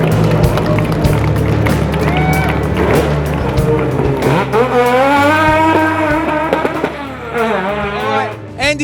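Race cars at the Waimate 50 street race in New Zealand, including a rotary-powered Mazda RX-3, engines revving and passing loudly close by, with a commentator talking over them.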